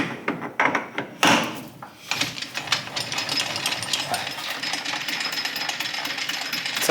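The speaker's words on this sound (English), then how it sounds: "So we get our humble parting off tool here" A parting-off tool cuts metal on a lathe, producing a close, rough, chattering grind that begins after a couple of sharp knocks and then continues steadily.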